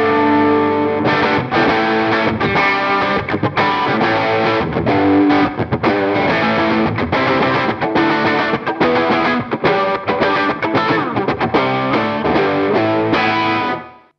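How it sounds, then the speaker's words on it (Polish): A Gibson SG electric guitar through dirty, ugly overdrive distortion plays loud, dense riffs and sustained chords without a break, then cuts off abruptly at the end. "Jest taka brzydka, brudna i na przesterze, jak się odpali."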